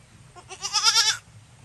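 A young goat kid bleats in a short, wavering cry at close range, rising and falling over about a second against a quiet farmyard background with no talking.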